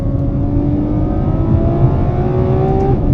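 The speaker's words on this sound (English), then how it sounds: "Oh, just howls this car." Ferrari F12 Berlinetta V12 engine howling under acceleration, a loud continuous rising drone heard from inside the car without talk.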